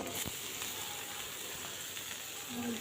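Spices, lentils and fish sizzling in hot oil on a stove, a steady soft frying hiss running throughout at low level with a few faint crackles, no voices.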